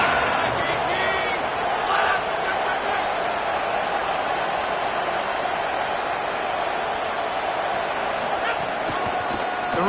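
At a preseason football game, a big stadium crowd keeps up a steady, far-off roar on third down, with commentators talking over it the whole time.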